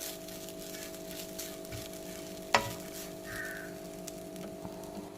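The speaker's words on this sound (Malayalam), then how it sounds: "ചൂടായ പാനിലേക്ക് നമുക്ക് 1 കപ്പ് തേങ്ങ ഒന്ന് വറുത്തെടുക്കാം" One cup of grated coconut roasting in a hot pan gives a steady, quiet sizzle throughout, broken by one sharp utensil clink midway.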